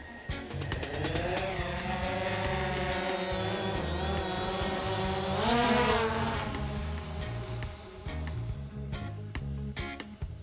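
A DJI Phantom 4 drone taking off and flying, a continuous high buzzing whine of its rotors that swells and rises in pitch midway, then eases back, close and fairly loud.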